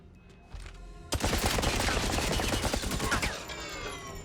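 Sustained automatic gunfire in the James Bond 007 video game, loud rapid shots firing in a steady stream for about two seconds after a quieter opening, then breaking off.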